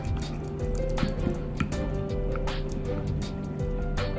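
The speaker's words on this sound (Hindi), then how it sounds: "इसमें अब ऐड करेंगे 1 टेबलस्पून कोकोनट ऑयल। इसको अच्छे से मिक्स कर लें।" Tablespoon of coconut oil being stirred into a homemade beauty face mask, giving soft wet squishing and dripping sounds that run steadily and close throughout.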